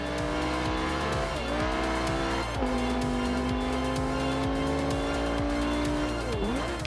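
Race cars in the video game Forza Horizon 2 roar loudly with engine pitch rising and falling through gear changes, accompanied by sustained tire squeal and skidding, one continuous stretch with no talking.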